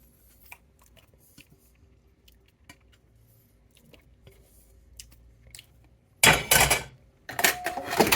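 Rice being stirred fast into a chocolate cocoa protein mixture in a large bowl, starting as quiet scraping and then turning into loud, dense bursts of clattering, scraping and squishing near the end.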